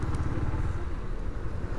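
A high-displacement motorcycle engine runs with a steady low rumble and slight rises in revs, loud and close, with no talk over it.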